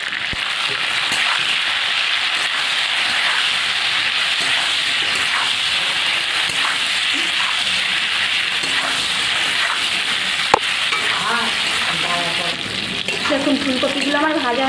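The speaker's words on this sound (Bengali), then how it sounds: "এবার ফুলকপিগুলো ভেজে নেব।" Cauliflower fries in hot oil in a wok with a steady, close, loud sizzling hiss and occasional stirring clatter, and a voice is heard briefly near the end.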